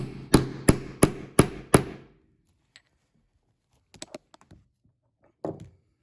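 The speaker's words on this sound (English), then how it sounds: "we'll take our setter and we'll give it some taps with the hammer" Five sharp metallic hammer taps in a steady rhythm on a rivet setter setting a rivet in a leather bag strap, close and loud, followed by a few faint handling knocks and a short rustle.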